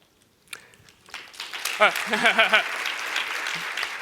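Applause from an audience at a pitch competition final, rising from scattered claps into a fuller burst with cheering voices, then holding steady and fading slightly.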